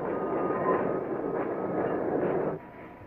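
Santa Fe Railway freight cars rumble through a rail yard, a steady, fairly distant low roar of rolling wagons with faint wheel noise that eases off near the end.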